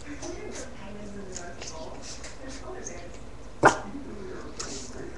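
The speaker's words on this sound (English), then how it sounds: "That was a bark." A single sharp dog bark stands out near the end, close and brief, against quiet room noise with faint movement.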